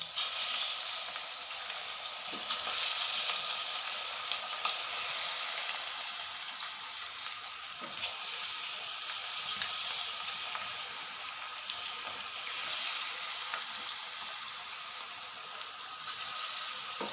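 Small pinched pieces of kunukku batter fry in hot oil, giving a bright, crackling sizzle that runs steadily throughout with occasional sharper pops and a gradual slight fade.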